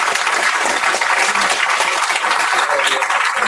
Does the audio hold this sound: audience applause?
yes